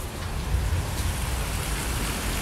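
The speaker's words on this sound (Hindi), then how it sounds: "ये तो कितनी तेज़ बारिश आ रही है, फुल तेज है।" Heavy rain pours down at night, a dense, continuous hiss of falling water with low rumbling underneath, steady and close throughout.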